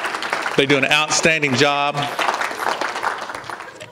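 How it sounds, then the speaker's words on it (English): An audience applauds the Tulsa Public Libraries at a writers' award event. Someone speaks first, then a broad wash of clapping swells underneath and carries on alone to the end. "let's give Tulsa Public Libraries a round of applause too"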